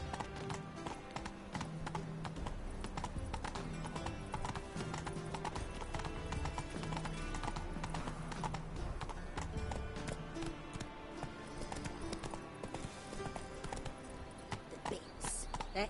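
Roach the horse's hooves clip-clop steadily through The Witcher 3, a continuous rhythmic trot under a dense layer of game music and ambience, with occasional voices.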